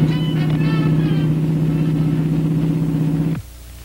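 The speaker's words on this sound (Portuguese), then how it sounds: "Escute só que motor." A powerful car engine holds a steady, loud, deep drone close by, then cuts off abruptly near the end, leaving near silence.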